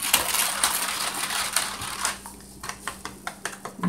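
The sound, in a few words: mixing peach cobbler ingredients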